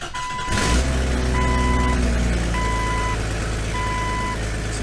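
A 600 daily driver car with a massive manifold leak idles with a loud, steady rumble that starts up after a moment and runs evenly, with a repeating high beep sounding over it at regular intervals.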